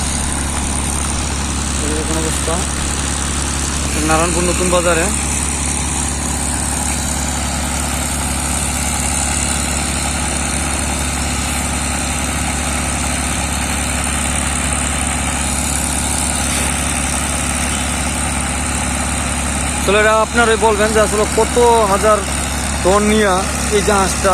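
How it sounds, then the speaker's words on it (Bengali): A large sand-dredging ship's engine runs on a river, a steady, heavy low drone that holds through the whole stretch while someone talks in short bursts over it. "দেখেন কত বড় জাহাজ কয় হাজার টন ওজন নিয়ে এই জাহাজটা এখানে চলে আসছে"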